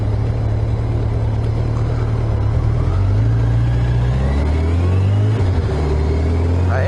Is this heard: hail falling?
no